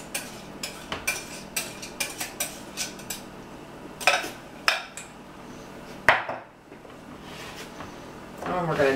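Egg noodles being tossed with a creamy mixture in a dish for noodle kugel, a run of close utensil clinks and scrapes against the dish, then a few heavier knocks.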